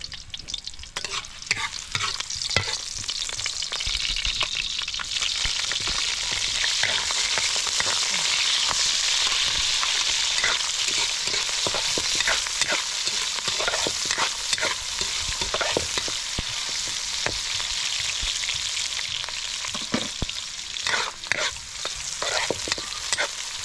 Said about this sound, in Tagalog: igigisa na yung mga ingredients